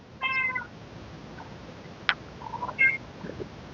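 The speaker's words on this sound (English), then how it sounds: "Sorry about the cat." A house cat meows close by indoors: a clear meow at the start, then a shorter chirp, with a sharp click in between, all faint over a quiet room.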